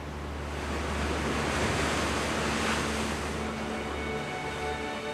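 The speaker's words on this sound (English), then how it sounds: "The seas around the north coast of Scotland are some of the strongest waves and tides in the world." Strong ocean surf rolls along Scotland's rugged north coast, a continuous loud wash of breaking waves mixed with wind buffeting the microphone.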